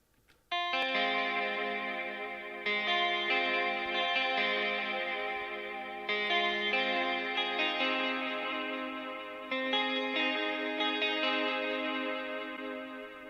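A synthesized music passage treated with pitch modulation, cabinet simulation, echo, delay and reverb plays in sustained layered chords, each swell decaying into lingering repeats and wash.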